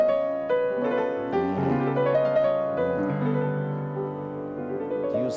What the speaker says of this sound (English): It's the sound of the whole tone scale, a unique invention of Debussy's,